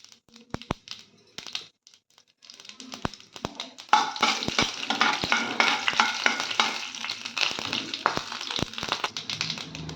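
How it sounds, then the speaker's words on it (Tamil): Mustard seeds and urad dal spluttering in hot oil, sharp scattered pops at first that build into a loud continuous crackling sizzle with sudden snapping bursts, close by. "கடுகு உளுத்தம் பருப்பு பொரியட்டும்."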